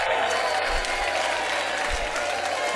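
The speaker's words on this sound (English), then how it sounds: "I am going to clap my hands in response." Applause fills the space, a dense, continuous wash of clapping with a few low thumps underneath, steady and fairly loud for the whole stretch.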